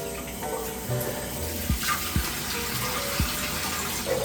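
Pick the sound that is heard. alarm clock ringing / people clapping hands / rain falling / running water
running water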